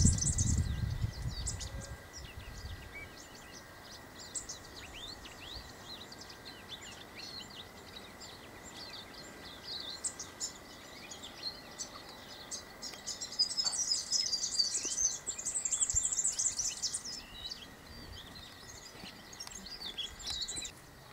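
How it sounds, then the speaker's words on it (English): Birds, including a White-eared Honeyeater, chirp and sing in the open air over a steady insect hum, with a brief rustle at the start and livelier calls later on. "Listen to the birds."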